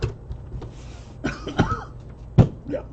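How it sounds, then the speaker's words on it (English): A person coughs and clears their throat close by, several rough bursts spread unevenly across a few seconds, with no talking. "Yeah, still coughing."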